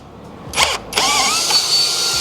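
A power tool whirs in short bursts while screwing rivnuts into a vehicle door frame for a door safety system install, two brief spins then a sustained pitch-rising drive close by.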